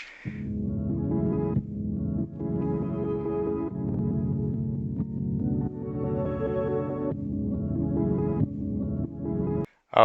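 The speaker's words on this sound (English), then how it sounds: "I should probably show you the chops that I made out of the sample" A producer's chopped sample loop plays back, one slice pitched up by two and another down by ten, as a sustained tonal musical phrase repeating in short sections, with a brief dropout and a sharp cut near the end.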